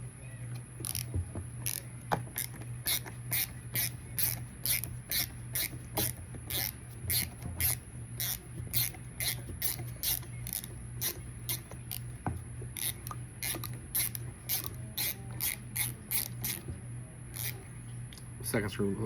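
A screw is backed out of the furniture on a Remington 870 shotgun with a ratcheting driver, giving a steady series of evenly spaced clicks close up while a person speaks over them.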